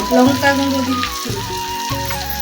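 Chicken and spices fry in a pan and are stirred with a spatula, giving a loud, close sizzle with shifting bursts as the food is turned.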